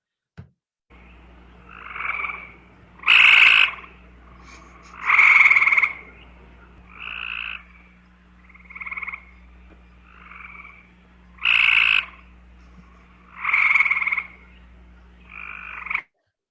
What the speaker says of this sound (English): And now I'm going to play the Cope's gray tree frog.